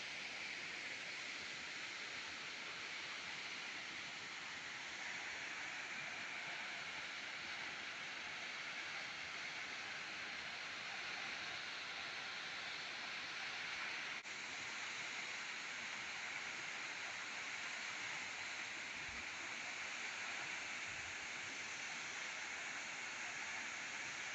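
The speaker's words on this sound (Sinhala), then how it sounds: "මේ තියෙන්නේ ඇල්ල පාමුලට ගියහම වටපිටාවේ තියෙන ලස්සන" A steady, even rush of falling water from Aberdeen Falls in Sri Lanka fills the air without pause, constant and moderately distant.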